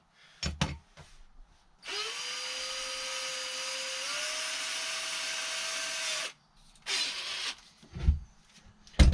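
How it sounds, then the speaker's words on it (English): A wire brush cleans metal on a TaoTao Coolster 110cc youth ATV before welding: a steady, whirring power-tool drone of about four seconds that rises slightly in pitch, with short clunks and scrapes before and after. No talk. "let me get a wire brush, clean that up for some welding"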